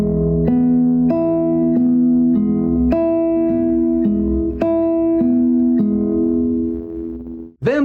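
A classical guitar plays measure 2 of a Sagreras lesson 49 study, a clear sequence of about ten plucked notes at a steady, unhurried pace that rings alone and close, ending with a short cut-off.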